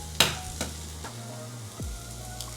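Eggs go into a hot skillet for a one-pan breakfast, a couple of sharp taps and knocks over a low steady sizzle, with clattering handling sounds nearby and no talking.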